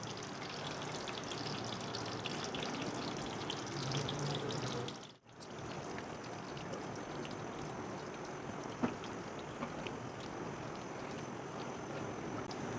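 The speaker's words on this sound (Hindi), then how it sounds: "ये पकोड़े हमने डाल दिए हैं" Kadhi pakoras frying in hot oil, a steady close crackling sizzle with a brief dip midway, no talk over it.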